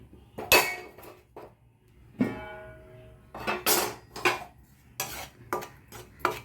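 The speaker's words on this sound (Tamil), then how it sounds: "இதுவும் அதே மாதிரி பச்சை வாசனை போகிற அளவுக்கு நம்ம வறுத்துக்கிடலாம்" Pearl millet flour roasting in a kadai, sparse close clinks and scrapes of a metal spoon against the pan in irregular bursts over a quiet background.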